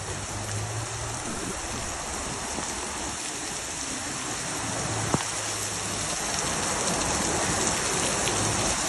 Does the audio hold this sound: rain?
yes